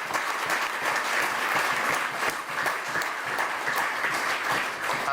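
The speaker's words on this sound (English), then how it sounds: "I think we ought to give them a louder round of applause." A village crowd in Guyana gives a round of applause for the local teachers, with brisk, dense clapping that holds steady and fairly loud throughout.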